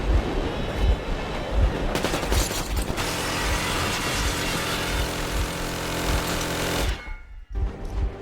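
Warning gunfire in the video game Metro Exodus, rapid bursts of shots layered over a rumbling engine and mechanical clatter, loud and continuous before cutting out abruptly near the end.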